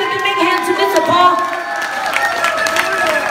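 An audience at a New Year's Eve concert applauds and cheers in a dense, lively wash of clapping and shouts, with tonal voices and music ringing through it.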